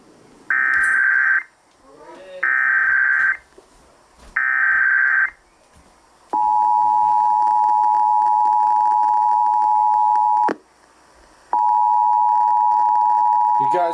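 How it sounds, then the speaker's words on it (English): Ohio Emergency Alert System monthly test tones: three loud bursts of harsh digital data tones, then a long steady attention tone broken by a short gap before resuming. "This is a monthly test of the Emergency Alert System."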